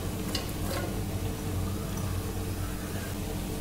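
Chopped onions, cut into squares, hit a hot pan for a coconut-free chickpea curry, giving a steady, close sizzle with soft stirring scrapes throughout.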